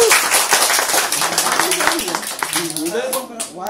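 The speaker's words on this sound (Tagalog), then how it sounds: "Isa pang palakpak." A cluster of people clap together at an 18th birthday party, brisk dense clapping close by mixed with cheering voices, tapering slightly toward the end.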